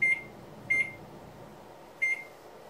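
Microwave oven beeping as its timer is keyed in for cooking, three short electronic beeps spaced unevenly, fairly close over a quiet kitchen background.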